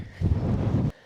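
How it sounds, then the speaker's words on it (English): Gusty wind buffets the microphone at a hillside campsite beside a pitched Helm 2 compact tent, a low rumbling roar swelling loudly for most of a second, then dropping off abruptly. "that wind is coming"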